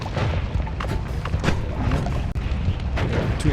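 Dense, continuous booms and crackling blasts of fireworks-like explosions from the video game Noita, loud and close, overlapping with no pause and no voices.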